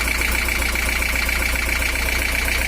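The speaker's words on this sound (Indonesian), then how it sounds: "Oli mesinnya belum ngobos dan suaranya kasar." A 1982 Toyota Hiace LH11 diesel engine running rough, a steady close droning idle with a fast uneven knocking pulse and a high whine over it, continuous and unbroken.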